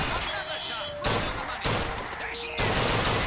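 Gunfire in the video game BioShock Infinite: sharp loud bursts of shots in quick succession, several cracks cutting in abruptly over a busy in-game background.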